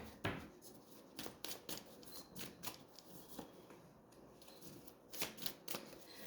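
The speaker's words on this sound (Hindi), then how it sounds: "शफल बहुत फास्ट हो रहे हैं" A deck of tarot cards is shuffled quickly by hand, giving soft, rapid riffling bursts and taps in an irregular rhythm. It is close and quiet, with no voices.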